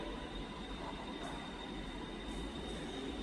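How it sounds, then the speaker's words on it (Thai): A Bangkok subway train in Thailand runs at speed with a steady, loud rumble and rushing roar, with faint wheel squeals now and then, heard from inside with no talking. "นี่จะเป็นรถไฟใต้ดินอยู่เมืองไทย"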